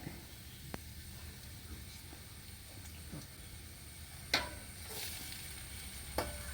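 Garlic and carrot frying in a pan, giving a steady soft sizzle with a few sharper clicks and stirring scrapes, close and fairly quiet, with no talk over it.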